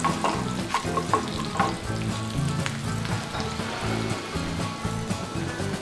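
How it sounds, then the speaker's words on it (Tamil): Finely chopped ginger and garlic sizzling in hot oil in a pan for restaurant-style paneer fried rice, a steady close fry with occasional stirring scrapes and no voices. "இதுக்கு இதை நல்லா கொஞ்சம் ஃப்ரை பண்ணிக்கலாம்."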